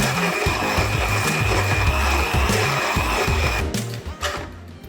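Blender pureeing a peri peri chicken marinade, a loud steady motor roar with churning grind close up that winds down and stops near the end.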